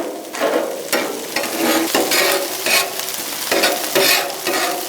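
Onions fry and sizzle loudly in a pan for a smash burger, a dense close hiss pulsing with repeated stirring strokes about once a second, no talking.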